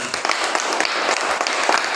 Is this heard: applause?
yes